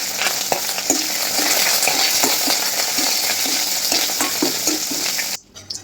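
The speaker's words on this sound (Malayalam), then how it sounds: "അപ്പോൾ എണ്ണ ചൂടായി നമ്മൾ കടുക് ഇട്ട് കൊടുക്കുകയാണ്." Mustard seeds splutter in hot oil for tempering a Kerala snake gourd curry: a loud, steady sizzle dotted with sharp, scattered pops that cuts off abruptly just before the end.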